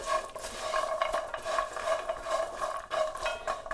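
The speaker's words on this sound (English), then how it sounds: "you just want to stir these off the heat just for a couple of minutes or so, just to get all the nuts and the spices mixed and toasted together." Spiced nuts stirred in a pan off the heat, a rapid run of rattling, scraping strokes as the nuts tumble against the metal, close and continuous with only a faint sizzle beneath, no speech.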